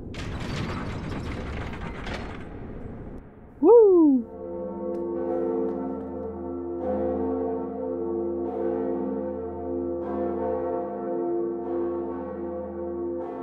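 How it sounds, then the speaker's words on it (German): Second bell being rung in Dark Souls Remastered: a grinding mechanism ratchets first, then one loud bell strike gives way to a long, sustained ringing tone that slowly fades, with no voices over it. "Hier ist die Glocke. Die zweite."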